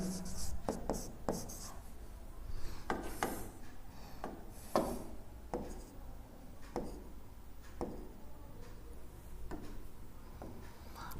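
Chalk or marker writing on a board during a physics lesson sounds as a series of short, sharp scratching strokes spaced irregularly, close and fairly quiet, with no talk.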